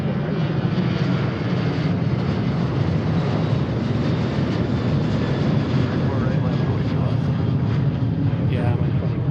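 A United airliner jet rolling for takeoff on runway 34 right at Seattle airport, producing a steady, broad engine roar that stays loud and even for the whole stretch.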